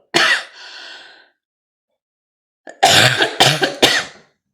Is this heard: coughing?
yes